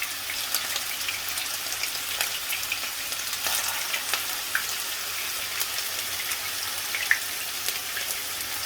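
Lamb kebabs frying in a pan over medium-high heat give a steady, close sizzle with a crackling hiss and occasional sharper pops, continuing evenly throughout with no talking.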